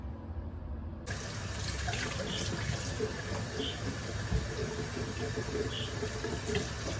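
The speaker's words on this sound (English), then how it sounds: "Now rinse them off." Tap water runs steadily into a kitchen sink while potatoes are rinsed for corned beef hash, a continuous close hiss with faint splashing and no talk over it.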